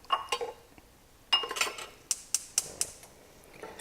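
A spatula scrapes and taps against a frying pan as butter melts for brioche French toast, giving a few soft scrapes and then a run of sharp, close metallic clinks.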